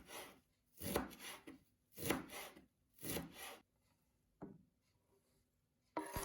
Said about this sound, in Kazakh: Менің алғаным көк жуа және де укроп. Соны осылай ұсақтап етіп турап алдым.